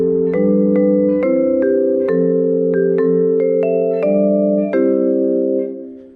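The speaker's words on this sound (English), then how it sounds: "Vibraphone." A vibraphone plays a run of mallet strikes in a steady melodic rhythm, the notes ringing and overlapping with warm sustain before the last tone fades out alone.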